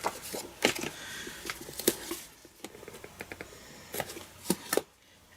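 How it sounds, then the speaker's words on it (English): Tear-and-tape strip pressed along one edge of a clear window sheet for a see-through card, giving soft crinkly rustles and a few sharper peel-and-press crackles, close and fairly quiet with no talk. "put tear and tape along one edge of the window sheet"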